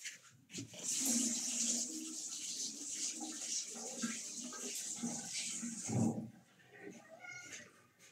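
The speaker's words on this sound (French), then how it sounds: "Je vais rincer mon pinceau." A paintbrush being rinsed in water, with steady splashing and swishing at close range through most of the moment, a brief louder slosh near the end, then quieter dripping.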